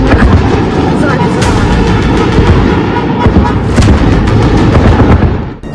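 Heavy booms and blasts from a missile attack on Kyiv rumble over a dense, roaring background, with several sharper cracks standing out before the noise cuts off abruptly.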